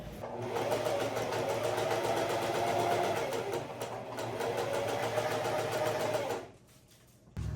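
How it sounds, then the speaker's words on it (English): A sewing machine runs in a long steady whirring burst as it stitches a half-inch seam around the perimeter of fabric Christmas decorations, briefly easing mid-run, then stopping near the end, close and clear with no talk. "I'm gonna sew around the perimeter with leaving the bottom open"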